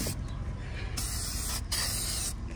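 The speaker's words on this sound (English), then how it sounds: "So I always give it a spray." A spray bottle hisses in two or three bursts onto a Ford car's interior, close and loud, with brief pauses between sprays.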